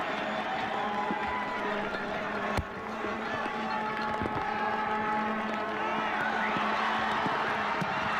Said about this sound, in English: The crowd roars to life on this corner.